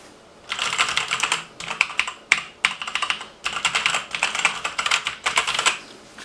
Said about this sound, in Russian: Громкость самой клавиатуры можете оценить.